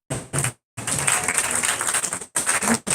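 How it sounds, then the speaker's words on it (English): Audience applause for a director at a live film festival event, a brief burst of clapping that drops out, then swells into sustained applause before breaking off again. "let's give a round of applause to our wonderful director"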